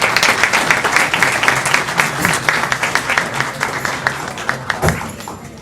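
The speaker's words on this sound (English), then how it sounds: "let's give them another big round of applause" A crowd applauds steadily at a school board meeting, dense clapping filling the room at a fairly loud, even level for several seconds, tapering slightly near the end.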